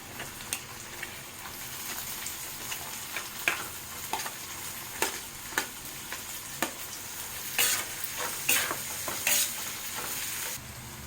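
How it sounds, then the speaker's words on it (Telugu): Cabbage frying in a pan for street-style egg fried rice: a steady sizzle under repeated sharp scrapes and clacks of a spatula stirring, close and fairly loud, with no talking. "ఇలా ఫ్రై అవుతున్నప్పుడు క్యాబేజ్ యాడ్ చేసుకుందాం"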